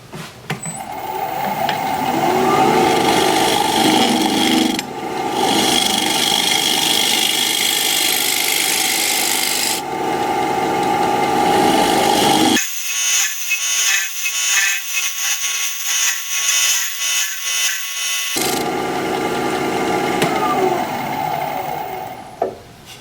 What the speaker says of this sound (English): Now I'm going to use my negative rake scraper to finish this off.